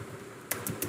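Three crisp keyboard keystrokes click in quick succession over a faint steady hum, close and clear.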